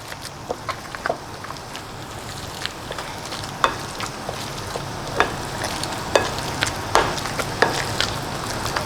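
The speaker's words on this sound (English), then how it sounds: "And then we're just gonna smash our avocado." Ripe avocado with a little onion being mashed for tostadas, heard as soft, squishy taps repeating at a steady rhythm for several seconds, close and quiet, with no talking.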